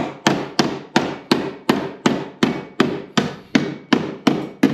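A hammer smacks the fender flange of a Jeep XJ over, about a dozen loud, even metallic blows at a steady rhythm, close and alone.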